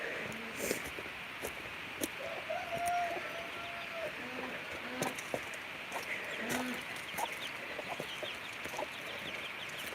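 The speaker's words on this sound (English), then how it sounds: "That one's definitely a rooster." Chickens, including a rooster, cluck and murmur in a coop at moderate distance, with occasional higher crowing-like calls and scattered clatter in the background.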